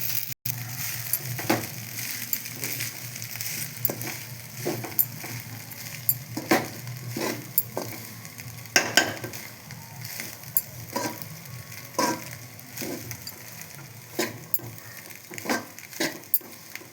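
Rice with cauliflower stir-fried in a pan gives a steady close sizzle, broken by frequent spatula scrapes and light metallic clinks throughout.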